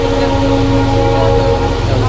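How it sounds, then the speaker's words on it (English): A train runs past Dudhsagar waterfall in Goa with a loud, steady tonal drone that sounds close and continuous throughout, set against a constant rumble. "That was a train."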